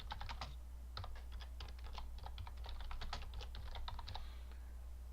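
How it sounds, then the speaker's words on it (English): Steady typing on a computer keyboard, with irregular bursts of crisp key clicks running continuously for several seconds over a low electrical hum, close and fairly quiet, with no voices. "And we'll type in some text here."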